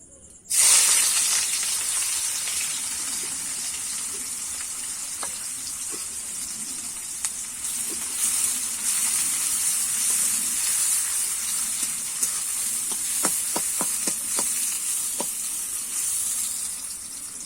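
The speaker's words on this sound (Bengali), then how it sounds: "তেলটা আমার গরম হয়ে গেছে আমি বেরেস্তা করার জন্য পেঁয়াজটা ভেজে নেব" Onions fry in hot oil to make crisp browned birista for chicken kosha, a constant close hiss and sizzle that starts abruptly and carries on, with a few light clicks of stirring and no voices.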